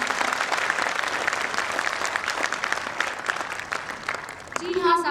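An audience in a hall gives sustained, dense applause for the CMD, loud and close, easing slightly before a voice comes in at the end.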